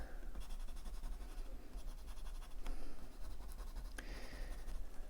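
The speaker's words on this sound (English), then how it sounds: "I'm going to add some shade, some graphite to the centre points where all of my petals meet" A graphite pencil shades on paper with a steady soft scratching, close and quiet, with a few sharper strokes.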